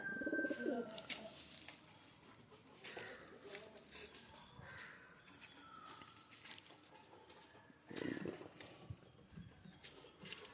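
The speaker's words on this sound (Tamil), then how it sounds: "இன்னும் இதுக்குள்ளேயே தான் ப்ரோ 3 புறா நிற்கும்." Pigeons in a coop coo softly in short throaty bursts, a few calls near the start and again later, with faint shuffling and quiet background noise between.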